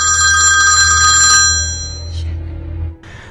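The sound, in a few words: telephone ringing in the film Trust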